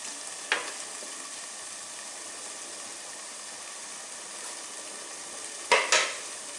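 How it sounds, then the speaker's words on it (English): Pasta with broccoli and other vegetables cooks in a pan under a continuous soft hiss of steam and frying, with two brief scraping stirs, one near the start and a louder one near the end. "you can keep stirring it to ensure that the pasta doesn't stick"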